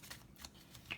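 Tarot cards handled and drawn from a deck, a few soft papery swishes and flicks close by, quiet and brief with no voice.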